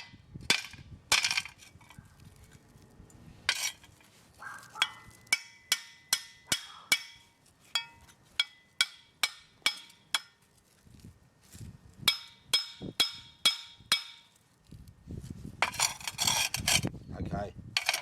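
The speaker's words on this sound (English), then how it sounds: "I've got to crush all this slag up and pan it out anyway." A hammer bashes and crushes slag during gold recovery, a long series of sharp, evenly paced close impacts with some scraping and rattling between blows, heard alone.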